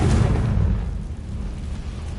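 A Confringo explosive spell goes off in Hogwarts Legacy, a deep rumbling boom that bursts loud at the start and then rolls on as a low, sustained roar with no speech over it.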